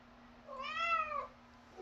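A single clear cat meow from a cat in a bathtub, rising then falling, fairly close but soft, over a faint steady hum.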